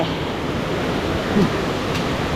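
Kok I Dok waterfall in Saraburi, Thailand, pouring as a steady, broadband rush of falling water that holds at an even, fairly loud level throughout, with no voices.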